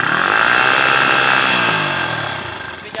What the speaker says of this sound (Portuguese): vídeo agora é com a moto do meu pai